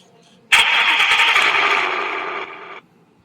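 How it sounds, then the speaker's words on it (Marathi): A smartwatch plays a Mustang car engine start sound: a sudden loud crank and rev, holding for about two seconds, then cutting off abruptly. "हे वॉच चालू करता क्षणी मस्टँगचा इंजिन साऊंड तर खूपच भारी फील देतो"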